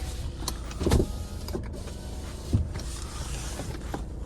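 Electric folding side mirror on a Skoda Octavia VRS whirs faintly in short motor bursts with small clicks, a weak spring in the mirror housing, heard alone and close.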